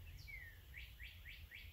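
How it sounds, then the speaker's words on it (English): Small birds calling in quiet spring woods before sunrise, a few rising chirps in quick succession, faint and distant over a low steady background. "The birds are all talking."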